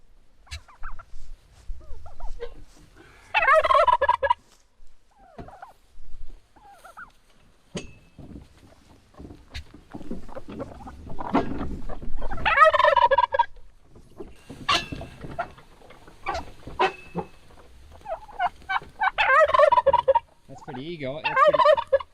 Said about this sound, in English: there goes the chickens and the turkeys.